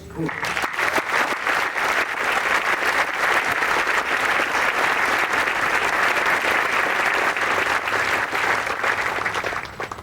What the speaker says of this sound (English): please join me in applauding Sharon and the Army families